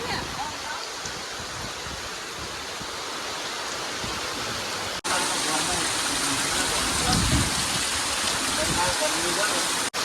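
Heavy monsoon rain pours down steadily, a loud dense hiss of water drumming on surfaces that continues without break, with people talking faintly beneath it.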